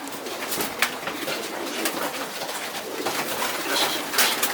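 Racing pigeons in a loft, steady soft cooing and rustling throughout, fairly close, with no speech over it.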